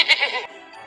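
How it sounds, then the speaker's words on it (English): Sheep bleats twice in quick succession, close and fairly loud, in the first half second, then fades into quiet room tone with no talking. "This is the sheep, and the sheep says,"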